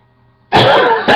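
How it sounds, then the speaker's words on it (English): A single loud, harsh cough bursts out after a brief near-silence, followed by a shorter second burst at the very end. "I'll take care of that cough sometime."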